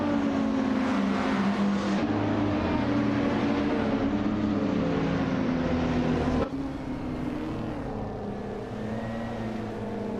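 A 1998 Mercedes-Benz CLK GT1 and rival race cars start a race at Shanghai in a racing video game, several engines roaring loudly together, their pitch rising through gear changes as the pack accelerates.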